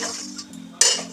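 Spiced pea filling for kochuri scraped from a pan into a separate bowl, giving a short metal-on-metal scrape with a sharper clink near the end, close and alone with no talk.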